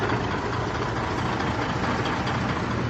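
A grey DAF truck's diesel engine, which misfires under sharp throttle, runs on the spot with a dense, steady roar close up and no voices.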